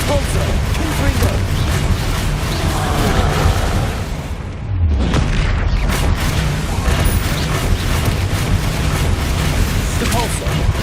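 Confringo spell explosions in the video game Hogwarts Legacy, heavy booming blasts amid a loud, continuous battle against a troll, with a brief lull midway and shouted spell voices over the din.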